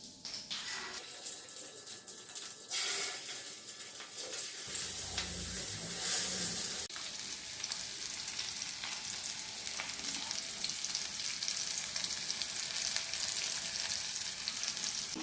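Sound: fish pieces frying in hot oil with curry leaves

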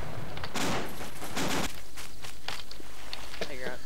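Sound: gunfire in a military video game

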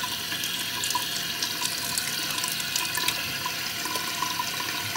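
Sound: water running from a tap while washing

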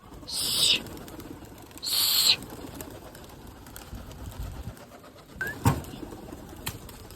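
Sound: domestic pigeons being released to fly

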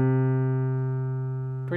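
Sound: jazz piano bass line of chord substitution

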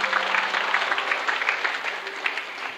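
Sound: audience applause during a religious talk

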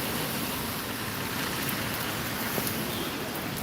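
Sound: rain falling

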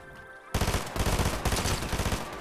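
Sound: gunfire in a video game

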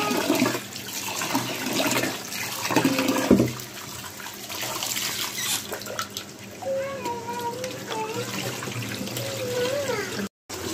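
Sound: washing rice and lentils under water

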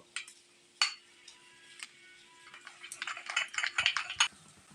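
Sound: spices being mixed in a pan

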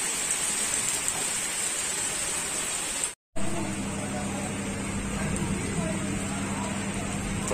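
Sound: rain falling

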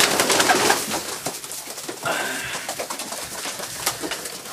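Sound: pigeons cooing in a loft

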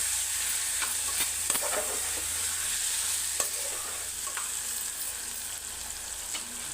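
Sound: frying chili powder in pan for aloo mutton curry

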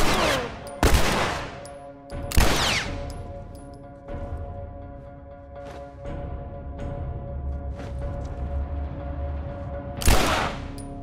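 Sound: gunfire in a video game

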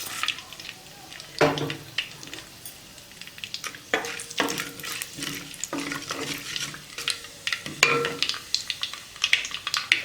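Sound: mustard seeds and fenugreek frying in hot oil

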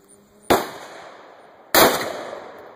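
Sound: Ruger Alaskan revolver gunshot, 300 grain XTP

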